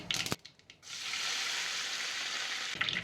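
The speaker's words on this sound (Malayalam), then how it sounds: "എന്നിട്ട് ഇതിലോട്ട് കറിവേപ്പില അങ്ങ് ഇട്ട് കൊടുക്കാം." Curry leaves hit hot oil with popped mustard seeds and burst into a loud, steady sizzle that holds for about two seconds after a few brief clatters. Nobody speaks.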